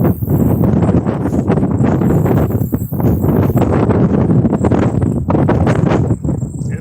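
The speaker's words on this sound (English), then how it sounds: "It's pretty windy out here today." Heavy wind buffets the microphone outdoors while fishing, in loud, rumbling gusts, with rustling and a few soft thuds underneath, steady throughout.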